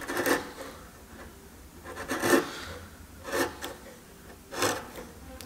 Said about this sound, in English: Keeping that chisel dead flat, and not, you don't want to dig into this edge whatsoever.